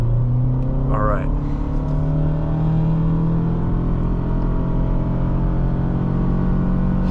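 A 2023 Toyota Sienna LE Hybrid minivan pulls ahead while driving, its steady engine and electric whine rising into a smooth, continuous hum from inside the cabin, with a voice faintly present.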